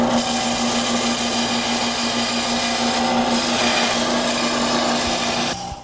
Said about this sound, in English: This 10-inch bandsaw will precision cut shapes whether they have a straight line or rounded edge.